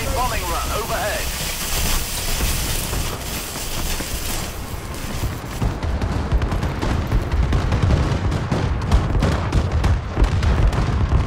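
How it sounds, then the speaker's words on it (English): Explosions from an enemy bombing run in the Call of Duty video game, a dense rumbling barrage of blasts that grows heavier and more continuous in the second half, mixed with game sound. "Enemy bombing run overhead."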